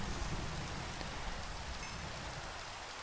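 Rain in the Minecraft video game falls as a soft, steady hiss, fairly quiet and continuous, with no voices over it.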